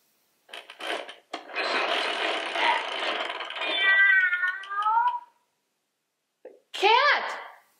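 A person imitates a cat's meow, giving a long drawn-out call with a rising wail at the end. After a short pause comes a second, shorter meow.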